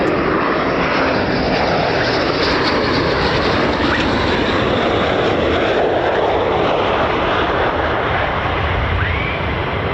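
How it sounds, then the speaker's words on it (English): F-35A fighter jets at RAF Lakenheath produce a loud, steady, broadband engine roar that holds for the whole stretch, with no clear speech over it. "F-35A's coming at us."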